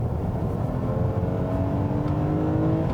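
A 2018 Toyota Camry XSE's 3.5-liter direct and port injected V6 accelerating, a loud steady engine drone with a rising tone heard from inside the car, without talk.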